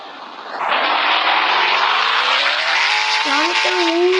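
A car accelerates hard, its engine rising from a low idle into a loud, sustained high roar, with a brief tire squeal near the end.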